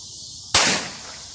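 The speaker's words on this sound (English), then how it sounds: "this is the reason why you don't use CCI quiet ammo, because they don't have enough powder to make the big booms" A single sharp gunshot from a Ruger firing CCI Quiet ammunition outdoors, one loud close crack with a short decaying tail after steady background noise.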